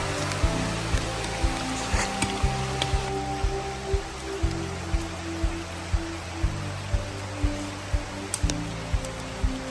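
Steady rain falls outdoors in a Philippine backyard, a constant wash of drops on surfaces with a soft patter, while music with a regular beat plays throughout.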